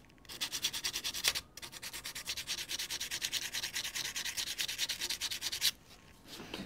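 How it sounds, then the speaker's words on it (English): Guitar frets being sanded with 240 grit sandpaper folded over, a steady rapid back-and-forth rubbing rasp that runs for several seconds, close and fairly loud, with a short pause near the start and quieter handling at the end. "At this stage, I can sand the top,"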